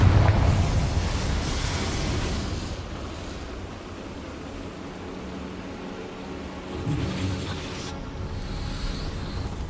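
A Confringo fire spell from Hogwarts Legacy erupts in a loud, broad blast that rolls into a long rumbling, surf-like roar. The roar slowly fades and then swells again near the end.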